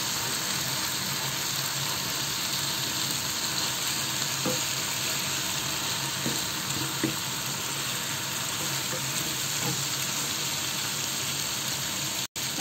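Fried fish goes into a pan of frying flat beans and potatoes with spices, and a steady sizzle runs throughout, broken by a few soft clinks and stirring sounds, close and fairly quiet.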